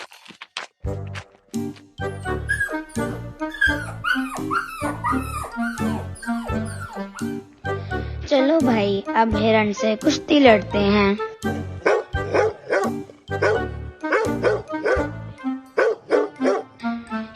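Someone playing a dog in a Hindi stage play, voicing barks and yips with a voice between lively spoken dialogue. A close, loud sequence of imitated barking mixed with talk.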